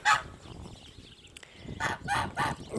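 Ducks and a gander in a pen give a short burst of loud honking calls: one sharp cry at the start, a brief lull, then three close honks in a row near the end.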